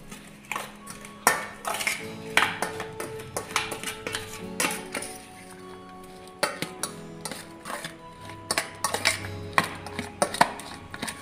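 Paneer paratha filling mixed in a bowl, with a spoon clinking and tapping against the bowl in quick, irregular bursts, close and clear with no talking.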